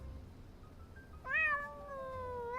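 A cat meows in a video game, one drawn-out, clearly pitched meow rising sharply and then held with a slow downward glide, close and alone over a low background hum.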